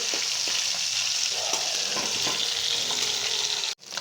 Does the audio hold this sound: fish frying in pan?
yes